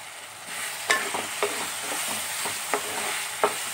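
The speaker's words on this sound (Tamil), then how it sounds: "தக்காளி கொஞ்சம் வதங்கட்டும்." Tomatoes sauté in a pan for Tamil kara kuzhambu, a soft steady sizzle broken by several sharp scraping clicks of a spoon stirring against the pan, close and without any talk.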